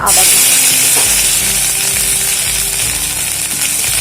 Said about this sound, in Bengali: আদাটা দিয়ে একটু ভেজে নেব